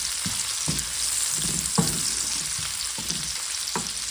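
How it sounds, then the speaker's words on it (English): Onions frying in a skillet for a one-skillet meal, a constant sizzle broken by repeated scraping strokes of a utensil stirring the pan, close and clear with no voices. "We're going to cook this until they get mixed up. So the onions get kind of golden."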